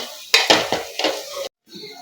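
Masala is stirred and sautéed in oil in a pan, heard as several quick clinks and scrapes of a spoon against the metal pan over a light sizzle, then a brief cutoff.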